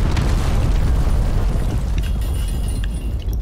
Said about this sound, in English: I do hear a cruise missile.